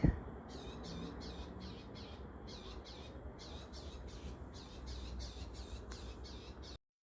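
Baby hummingbirds in a nest at a house give rapid, repeated high squeaky calls in a steady rhythm, close and clear over a quiet background, with no talking.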